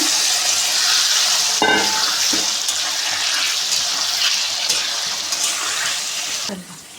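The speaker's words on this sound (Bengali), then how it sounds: "এবার আমি কড়াইতে দিয়ে দিচ্ছি ভাজার জন্য।" Chili-powder-spiced vegetables such as potato and pointed gourd hit hot oil in a kadai wok and sizzle loudly and steadily, with brief clinks of stirring throughout.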